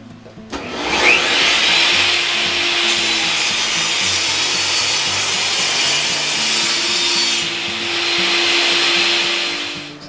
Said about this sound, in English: I'm going to go ahead and start making my cuts now.